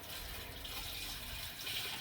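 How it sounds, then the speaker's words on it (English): Water pouring steadily into a container being filled with roughly 12 to 15 gallons for a vinegar mix, a continuous close rushing splash with no talking. "we're going to do probably about 12 to 15 gallons worth of water."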